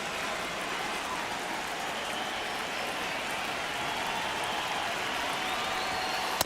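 Simulated baseball stadium crowd in MLB The Show, during a one-run ninth inning between the Rangers and the Mariners: a steady, dense roar of cheering and applause holding at one level throughout, with a small bump at the very end.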